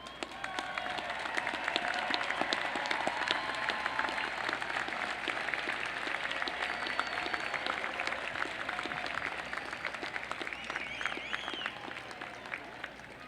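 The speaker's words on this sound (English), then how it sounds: "Will those students who are graduating with academic honors please rise and let us give you our applause" A large commencement crowd applauds graduating honors students, sustained steady clapping from many hands filling the hall, even and unbroken throughout.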